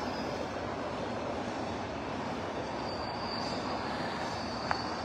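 A train rumbling past during a blackout in Jammu, a steady broadband roar with a faint high whine, continuous and moderately loud throughout with no talking.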